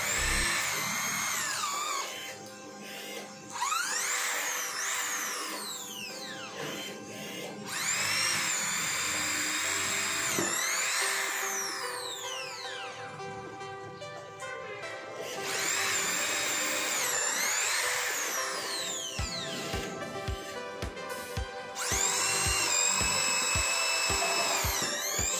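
A corded electric drill (DCA ADZ02-6A) whines loudly in several long bursts, its pitch rising and falling as it bores into 15 cm thick mahogany wood, with short pauses between runs.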